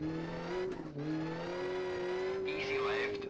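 A rally car engine in the Richard Burns Rally video game drones at a steady pitch, dipping briefly with a gear change and then holding, with a faint squeal of tyres toward the end.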